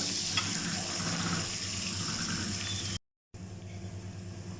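Finely chopped onions frying in hot oil in a home kitchen pot until light brown, giving a steady, close sizzle with faint stirring, broken by one short silent gap near the end.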